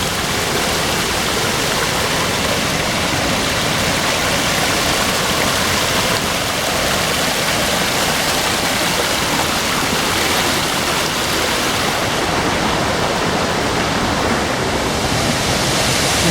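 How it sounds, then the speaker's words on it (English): Waterfall beside a hiking trail near a river overpass in Hilo, Hawaii, a steady, dense roar of rushing water that stays loud and unbroken throughout. "Oh, this is one of the waterfalls right here."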